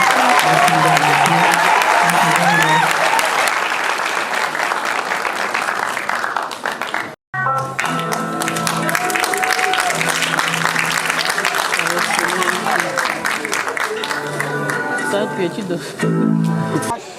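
Applause from an awards ceremony crowd, sustained clapping running throughout with a brief cut midway, mixed with crowd murmur and a voice speaking over it.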